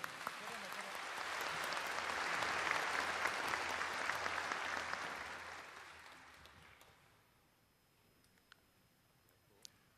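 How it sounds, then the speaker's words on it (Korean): Applause from the audience at a national Liberation Day ceremony swells to a steady, dense clatter of many hands, then fades away, leaving a few scattered claps in a quiet hall. "다시 한번 뜨거운 박수 부탁드리겠습니다"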